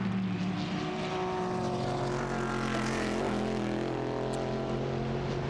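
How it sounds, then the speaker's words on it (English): Race car engines at night in the 2012 Petit Le Mans endurance race: steady, droning engine roar with a low, sustained hum and rough overtones, continuous throughout with no voices. "Just listening to the engines out there in the darkness"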